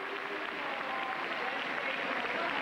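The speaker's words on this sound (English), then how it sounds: "The crowd really appreciating that one." A gymnastics arena crowd applauds a men's vault at a 1997 Europe versus Asia competition, a steady, dense wash of clapping that holds at even loudness throughout.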